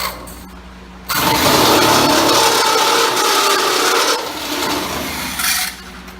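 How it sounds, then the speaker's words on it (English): An old corded electric drill made in America bores into a fuel tank during a return-line install; after a brief lull the motor whirs up loudly, grinding continuously for about four seconds, dips, surges again and stops. "I use the old plug-in drill made in America for this"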